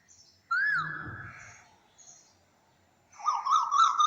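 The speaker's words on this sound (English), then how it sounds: "Sound of a koel is heard." A koel calls in clear, ringing bursts: one rising whistled phrase, a pause, then a quicker series of repeated notes, fairly close and alone.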